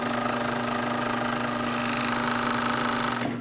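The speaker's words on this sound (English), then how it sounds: "Here comes the clutch motor." A Juki 2516 five-thread, two-needle overlock sewing machine driven by a clutch motor runs steadily and loudly with a constant motor hum and a faint mechanical buzz, alone and without talk.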